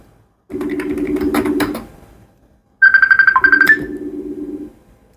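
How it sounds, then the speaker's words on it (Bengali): A loud electronic ringtone plays in two bursts, a warbling melodic tone that pauses briefly, then returns with a higher chirping phrase. "এই যে কল আসছে আমার আইডি থেকে"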